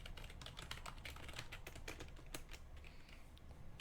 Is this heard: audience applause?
no